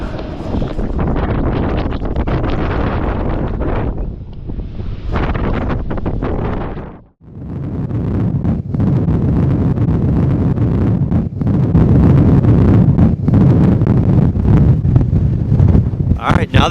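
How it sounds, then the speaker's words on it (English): Strong wind on Pismo Beach blows sand against the camera, buffeting the microphone with a loud, continuous rumbling roar that briefly drops out once before surging back. "I love the look of the sand blowing into the camera here"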